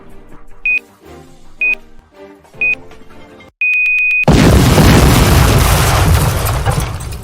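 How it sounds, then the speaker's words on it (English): Three short electronic beeps and a longer tone lead into a loud, sustained cartoon explosion blast that roars and slowly fades, from an animated Yu-Gi-Oh! series episode set on a train. "Was that an explosion?"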